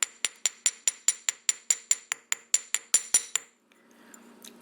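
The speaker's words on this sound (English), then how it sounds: "when you hammer, be careful not to hammer this joint too much" A metal hammer strikes wire on a hard block for jewelry making, about fourteen quick, even, ringing blows, then stops, with no talking.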